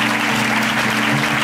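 Steady, loud applause from a church congregation acclaiming God, a dense wash of clapping that holds evenly throughout with a low murmur beneath.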